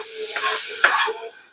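Chopped tomatoes drop into hot oil with garlic for a Maharashtrian toor dal amti, giving a brief close sizzle and stirring scrape that peaks midway and then fades.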